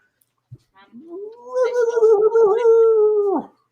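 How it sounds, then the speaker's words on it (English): A dog howls once, a long sustained wavering howl lasting about two seconds after a couple of short yips, close and loud with no other sound around it. "You got my dog going nuts now"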